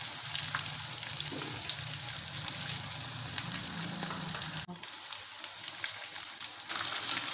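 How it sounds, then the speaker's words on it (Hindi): Masala fish sizzling steadily in hot oil in a pan, a dense continuous crackle with a brief pause near the end and no talking; a Lahori-style fish fry. "तकरीबन 6 से 7 मिनट हो गए हैं फ़िश फ्राई करते हुए।"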